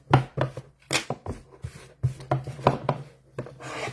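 Scissors snipping and trimming satin ribbon stitches close on a t-shirt, a run of quick close crisp cuts with short pauses between them and no talk.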